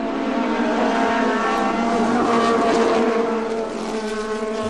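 Bobby Rahal's Lola race car howls past at the Monterey Historics vintage racing event, a loud, sustained, high-pitched engine scream with dense harmonics that swells and then eases slightly toward the end.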